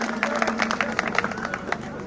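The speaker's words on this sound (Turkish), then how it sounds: "sizden kuvvetli bir alkış istiyorum ben" An indoor audience gives a short round of applause for an association president and board, a dense patter of many hands clapping at moderate volume over a low background hum.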